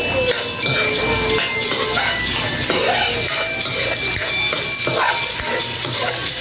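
Onions frying in cooking oil for a frog-in-coconut-milk dish, a steady bright sizzle with utensil clinks and scraping in the pan, and a voice speaks briefly over it.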